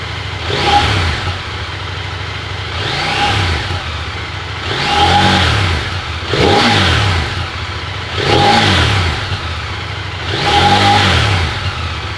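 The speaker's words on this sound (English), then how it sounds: "I'll quickly give it a couple of revs so to get the sound on this camera" A 2023 CFMoto 800MT Explore motorcycle engine with stock exhaust revs up six times in a steady rhythm, each rev rising and falling back to a low idle between them, close and loud.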